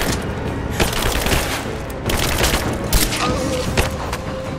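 Gunfire in the Rise of the Tomb Raider video game: repeated bursts of automatic fire and booming shots crack in uneven clusters, loud and close, with faint voices shouting beneath the combat.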